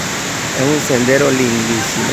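A waterfall along a scenic trail sends up a steady, broadband rush of falling water, continuous and even, while someone talks close by over it.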